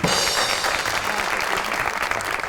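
Studio audience applause for guest Seema Anwar on a Pakistani comedy talk show, a steady, dense wash of many hands clapping, loud and sustained without a break.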